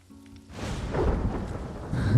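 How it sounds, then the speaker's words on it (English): Rain in the video game Ghost of Tsushima swells into a steady hiss and patter with a low rumble, rising after a quiet start and holding at a moderate level with no talking. "The sound of that rain."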